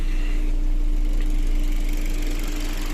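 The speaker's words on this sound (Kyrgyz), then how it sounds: "Мына моторду угуп атасыздарбы? Мотору тунук иштеп турат." A used Kia Rio with about 119,000 km on it idles with a loud, steady engine hum and a constant low drone, close up and unchanging, with no voices.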